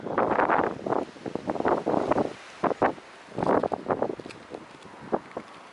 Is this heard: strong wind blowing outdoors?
yes